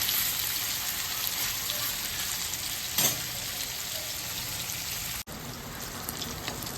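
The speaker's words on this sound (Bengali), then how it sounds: "পনিরটা একটু লাল লাল করে ভেজে নেই।" Paneer cubes browning in a pan, giving a dense, continuous sizzle with faint crackles and no talking.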